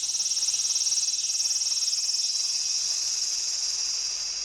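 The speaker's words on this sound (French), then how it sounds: "C'est fou le chant des cigales, c'est tellement fort." Loud, dense chorus of cicadas droning in a fast pulsing buzz, steady and close for the whole stretch with no talking.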